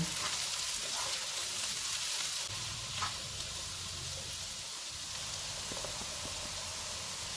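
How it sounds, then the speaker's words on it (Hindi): Vegetables, including carrots and boiled peas, sizzle and crackle steadily in a pan, with soft scraping stirs now and then, no talking. "इनको 2 मिनट तक भूनेंगे।"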